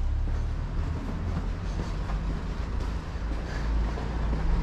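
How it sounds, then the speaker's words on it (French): A steady low rumble of a tram at a stop in Marseille, with continuous mechanical and rolling noise and no clear breaks. "Et là, on est à l'arrêt de tram."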